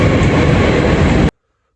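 Loud, steady rumbling of a train running close by at a station, a continuous heavy roar that cuts off abruptly into silence.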